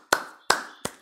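Three sharp, separate hand claps, close and crisp, spaced evenly in slow applause for the Fürth football team.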